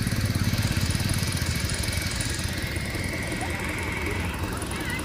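Engine of a wooden rice-carrying boat on a canal during the OM18 rice harvest, a steady loud low chugging drone running throughout with a faster rhythmic pulse at first, while people talk over it.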